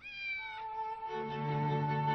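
A cat meows in a drawn-out, wavering call, fairly clear and close, with no talking.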